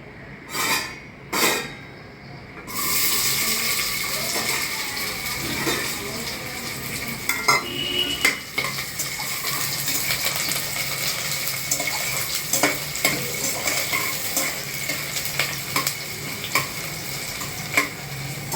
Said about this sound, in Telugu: ఆయిల్ హీట్ ఎక్కిన తర్వాత మనం ఆనియన్స్ వేసుకోవాలి కట్ చేసినవి